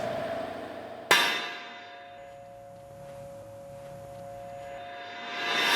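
A single sharp hammer strike on a metal panel while planishing tack welds, a bright ringing clang that decays slowly into a lingering tone, close and alone.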